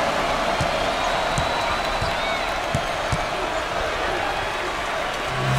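A home crowd roars steadily at a Virginia Tech versus Georgia Tech college basketball game, a loud continuous arena din with scattered sharp ball bounces underneath.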